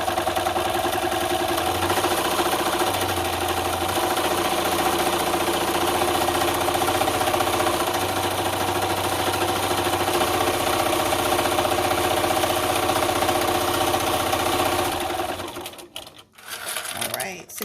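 A sewing machine runs steadily and loudly, stitching vinyl bag straps in one continuous hum that stops near the end, with someone talking over it.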